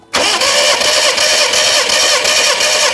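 Proton Satria engine cranking over on the starter with a loud, rapid, rhythmic churning that continues steadily throughout, heard during a compression check on a misfiring engine.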